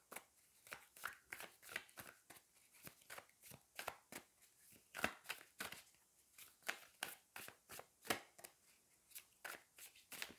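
Tarot cards riffle and snap in a rapid, steady run of crisp flicks, close and fairly loud, with a few sharper slaps as cards are drawn and no talk over them.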